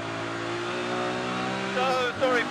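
A BMW race car in the Kumho BMW Championship at Brands Hatch Indy holds a steady, loud engine drone, with pitch shifting near the end as it revs, heard from onboard under a commentator's voice.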